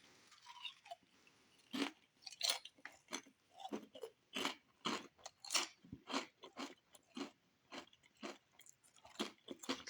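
Someone chews Doritos tortilla chips very close to the mic, a quiet run of crisp, rhythmic crunches repeating steadily over about ten seconds.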